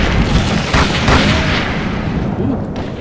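Gunfire in the horror game Call of Cthulhu: Dark Corners of the Earth, a few heavy booming shots in quick succession over a rumbling, noisy background.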